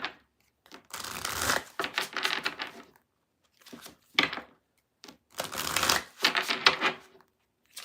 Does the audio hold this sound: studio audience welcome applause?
no